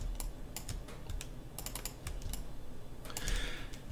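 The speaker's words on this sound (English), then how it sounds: "control E to extrude" Quiet clicking of computer keyboard keys while working in Maya 2020 3D modeling software, a scattering of light key taps in small clusters with a faint background hum, no voices.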